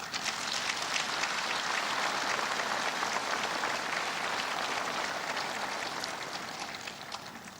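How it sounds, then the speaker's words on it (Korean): Sustained applause from a large gathering at a Memorial Day commemoration ceremony, steady and dense throughout before easing slightly toward the end, with no voices over it. "유족들께 따뜻한 위로의 박수 부탁드립니다"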